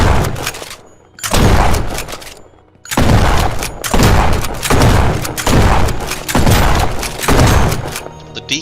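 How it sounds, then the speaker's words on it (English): Shotgun blasts in the video game No One Survived, a loud close sequence of about six heavy booming shots, each ringing out with a long tail before the next, evenly spaced. "Shotguns are always fun to use. This one holds 12 bullets."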